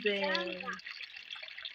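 Water runs steadily from an outdoor village tap in a soft, continuous trickling splash, with a person briefly speaking at the start.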